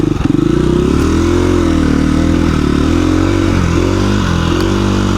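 A KTM 350 EXC-F dirt bike engine on a canyon trail ride, a close, loud, continuous four-stroke drone with small revs rising and falling.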